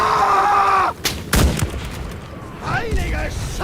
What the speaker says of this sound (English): And that's a mortar.